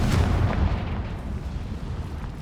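A Confringo fire spell bursts in the Hogwarts Legacy video game: a heavy, booming explosion with a deep rumble that hits loud at the start, then rolls on and slowly fades.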